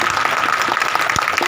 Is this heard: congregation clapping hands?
yes